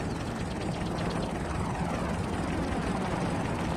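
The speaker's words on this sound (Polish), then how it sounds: "jakiś ten samolot wojskowy leciał chyba" A military airplane in the video game Farming Simulator 22 roars overhead in a steady, loud, broadband rush that holds without a break, with no voices.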